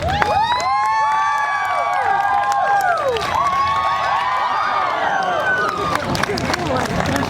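A crowd at a rescued dog show cheers loudly for the final jump, with many high children's shouts and whoops rising and falling together in a dense, lively burst close by.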